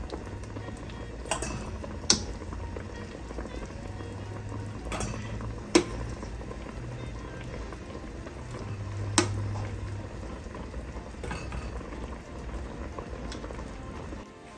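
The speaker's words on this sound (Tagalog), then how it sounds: "Boil muna yung chicken." Chicken boils in a pot on a stovetop, a steady bubbling simmer with a few faint clinks of metal against the pot now and then, and no talking.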